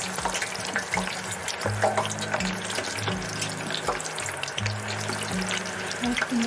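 Tiny fresh fish fry in a pan with thyme, giving a steady close sizzle and crackle throughout, with bursts of a low hum and light clatter from the kitchen mixed in.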